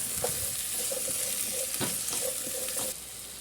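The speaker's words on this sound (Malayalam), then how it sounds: "ഇതിലേക്ക് നമുക്ക് അരിഞ്ഞു വെച്ച കോവക്കയും ഉരുളക്കിഴങ്ങും കൂടി ഇട്ട് കൊടുക്കാം കേട്ടോ നല്ലോണം ഒന്ന് മിക്സ് ചെയ്ത് കൊടുക്കാം" Ivy gourd and potato pieces sizzle in a hot pan while a spoon stirs them, with steady frying hiss broken by several scraping strokes, close and moderately loud, no voices.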